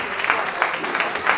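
Children and adults clapping at a two-year-old's birthday party hosted by clowns, a short burst of applause with voices mixed in over it.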